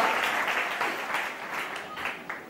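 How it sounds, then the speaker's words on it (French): An audience at a religious gathering claps steadily, acclaiming the Lord, dense applause close and continuous throughout. "Est-ce que tu peux acclamer le Seigneur?"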